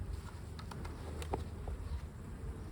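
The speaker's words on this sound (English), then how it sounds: "They're wild caught bees. It came from a swarm." Wild-caught bees from a swarm buzzing around a hive during an inspection, a dense continuous hum with individual insects zipping close past at moments, no voices.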